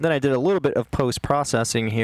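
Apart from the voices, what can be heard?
No everyday noise stands out behind the speech.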